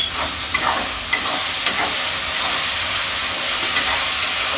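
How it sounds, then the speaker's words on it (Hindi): Chhole masala with tomatoes and salt is stirred and roasted in a pan over medium heat, giving a steady loud sizzle with a few soft scraping strokes and no voices. "मीडियम आंच पे हम मसाले को भून रहे हैं।"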